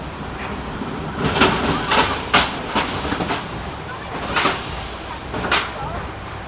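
The Ice Mountain Bobsleds roller coaster train at Enchanted Forest rumbles and clatters nearby, with rattling clacks and a few sharp knocks as it rolls slowly into the station, while people talk over it.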